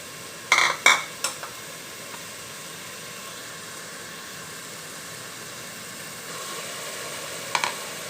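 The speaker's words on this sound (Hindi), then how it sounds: "इस तरह अच्छे तरीके से हिला लेना आपने, इससे बहुत अच्छी ग्रेवी बनेगी" A spoon scrapes and clinks against a pot of chickpea masala gravy, a few sharp knocks early on, then a quiet simmering hiss with another light clink near the end, close by, no speech.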